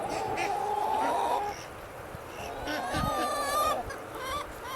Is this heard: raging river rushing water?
no